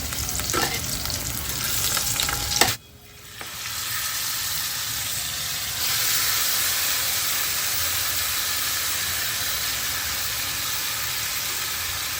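Onions frying in a pan toward light brown give a steady, close sizzle with stirring scrapes. A sharp knock near three seconds briefly drops the sizzle before it resumes at full strength.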